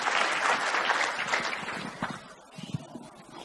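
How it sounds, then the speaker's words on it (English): A church congregation claps together, brisk applause that thins out and fades toward scattered claps at the end. "Let's clap for Jesus."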